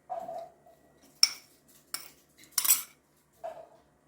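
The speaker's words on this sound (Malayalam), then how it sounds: "അപ്പോൾ തന്നെ ഇനി മുട്ട എടുത്തുകൊണ്ട് വന്ന് നമുക്ക് മുട്ടയെ" Separate metal clinks and scrapes of a spoon working eggs in a pan for fried rice, a few spaced strikes against the cookware, close and clear in an otherwise quiet kitchen.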